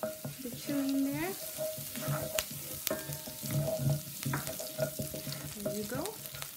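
Curry leaves and chili frying in hot oil for mango chutney, a soft, crackling sizzle with scattered pops, spoon stirring and clinks against the pan, fairly faint and close.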